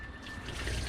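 Running water during an old, half-blind rescue dog's first bath, a steady close splashing trickle with no talk.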